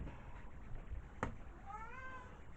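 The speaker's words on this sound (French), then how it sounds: "Voilà le chat qui vient dire bonjour." A house cat gives a single soft meow near the end, faint and a short way off, after a brief sharp tap, over quiet room noise.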